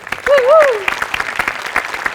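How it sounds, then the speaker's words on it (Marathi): Loud applause from a studio audience at a Marathi comedy show, a dense burst of clapping running throughout, with a brief vocal whoop riding over the start. "गोस्वामींसाठी आणि प्रथमेशसाठी भयंकर टाळ्या"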